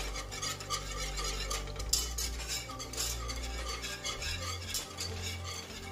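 A whisk stirs a vegan condensed milk mixture in a pot, giving steady rapid scraping and clinking against the metal with a continuous rhythmic swish throughout.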